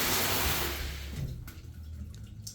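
Shower water running in a Canadian bathroom, a steady broadband rush that is loud at first and then eases slightly as the flow is adjusted, with no talking over it.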